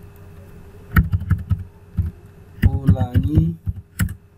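Computer keyboard typing heard as scattered quick key clicks and short bursts, close and fairly loud, alternating with a person speaking Indonesian.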